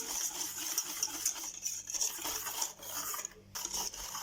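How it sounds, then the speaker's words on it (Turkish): A whisk scrapes and rasps steadily against a bowl as a no-bake mosaic cake pudding mixture is beaten with water, a continuous rubbing, stirring rhythm up close. "Suyun tamamını kullandım. 250 mg su kullandım. İyice çırpalım."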